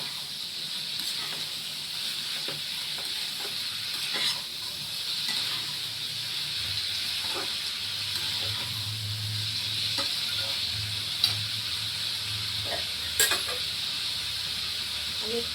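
Seeds coated with turmeric hiss and sizzle softly in a hot cooking pan, a steady frying hiss with occasional light scrapes and taps of stirring, close and fairly even throughout.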